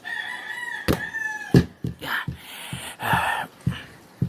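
Hungry backyard chickens cluck near a house while a rooster crows once or twice, with a voice talking over the scattered calls.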